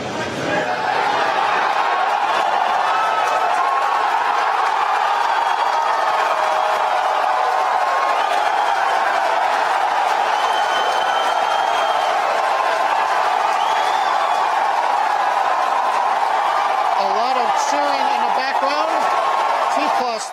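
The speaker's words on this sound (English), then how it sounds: "the cheering you hear is from employees who probably get a bonus for actually showing up and cheering like maniacs" SpaceX employees cheer during the SES-10 rocket launch, a loud, sustained roar of crowd voices and whoops that stays steady throughout, with speech mixed in.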